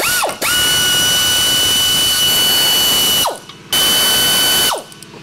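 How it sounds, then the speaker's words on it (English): An impact-style power tool runs strut bolts off a Toyota Tundra during a lift install, giving three loud, close, sustained whirring bursts that each wind down before the next. "I'm gonna remove my four bolts and pull this out."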